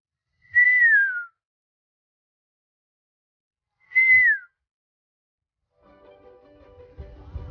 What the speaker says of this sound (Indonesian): Itu siulannya burung elang.